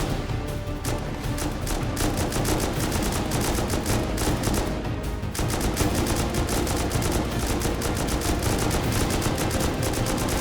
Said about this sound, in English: M249 taking down the sheet metal, and these guys are pushing hard